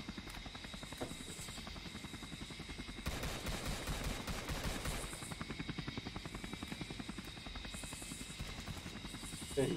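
A Black Hawk helicopter in the Roblox video game, its rotor chopping in a steady rapid thump, with bursts of gunfire breaking in over the drone midway, moderately loud throughout.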